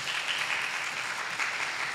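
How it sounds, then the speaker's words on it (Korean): Applause from a church congregation during a Sunday worship service as completion certificates are handed out, a steady dense wash of clapping filling the room at moderate level without pause. "큰 박수 주십시오."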